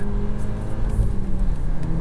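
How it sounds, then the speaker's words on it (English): A turbocharged engine in a 2023 VW Golf R on a race track, a steady close-up drone that holds at a fairly constant pitch while it pulls, with no speech over it. "More stereotypical turbocharged engine behavior."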